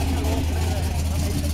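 A Chevrolet Camaro SS engine drones loud and close with a deep, steady low rumble, held continuously without breaks for a brief moment.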